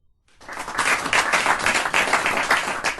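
Audience applause at a live show in Washington, DC begins abruptly after a brief silence, then continues as a dense, steady clapping wash for a few seconds.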